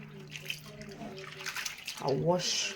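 Breadfruit seeds are washed by hand in water, giving soft sloshing and splashing that swells toward the end, heard under a person talking.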